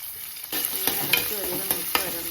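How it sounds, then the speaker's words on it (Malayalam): Ginger and garlic frying in a pan of hot oil after mustard seeds have popped, a steady close sizzle with light scraping stirs and a few sharp crackles. "ഇഞ്ചിയും വെളുത്തുള്ളിയും ഇട്ട്"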